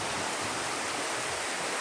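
A river in Barangay Laguan, Liliw, Laguna, turned into a swimming pool, rushes steadily. Its loud, broad hiss of flowing water is close and continuous, with no voices over it.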